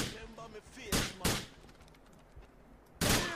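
Pistol shots ring out in the video game GTA 4, three sharp, loud cracks spaced unevenly with quieter game ambience between them.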